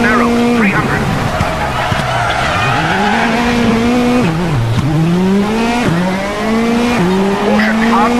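A VW Polo R WRC rally car in the WRC 8 or Dirt Rally video game roars loud and close, its engine pitch climbing and dropping through repeated gear shifts, with tire noise and a voice speaking over it.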